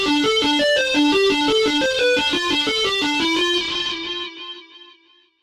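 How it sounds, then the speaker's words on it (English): A distorted high-gain synth lead plays a main theme as a quick, stepping melodic line of bright, buzzy notes, loud and alone, fading out over the final second. "only it has high gain, which gives this distorted sound"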